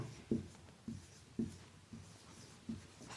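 A pen writing a word on paper, heard as soft, close scratching strokes in a short rhythmic series of about six to seven bursts in a quiet room.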